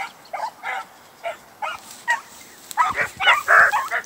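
A male dog out in the field whimpers and yips while mousing, a string of short high whines and squeaky cries, moderately close, growing louder toward the end with no talk.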